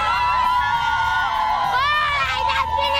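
Filipino volleyball fans at Mawa Arena before the Alas Pilipinas vs. Tunisia match at the FIVB World Championship. Close, loud high-pitched shouts and cheers rise into rising whoops, with crowd noise behind them.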